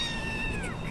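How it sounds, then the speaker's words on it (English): A pet cat lets out one brief, insistent meow with a wavering, slightly falling pitch, close and fairly loud over a low background rumble. "He's meowing a little bit."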